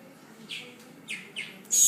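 A baby bird lets out several short, high chirps close by in a kitchen, spaced in quick bursts, with a louder sharp chirp at the end.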